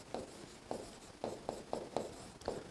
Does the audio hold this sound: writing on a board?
yes